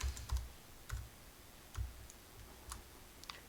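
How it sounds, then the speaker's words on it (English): Typing on a Mac computer keyboard: a handful of separate, soft key clicks spaced irregularly, with short pauses between presses, quiet and close. "Let's type something with it."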